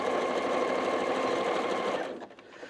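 A home sewing machine runs steadily and loudly through a seam on a fabric grocery bag for about two seconds, then slows and stops, leaving a quieter tail.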